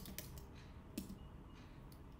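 Quiet keystrokes on a computer keyboard as a terminal command is entered on a Mac, a few soft, irregular clicks spaced across a hushed room.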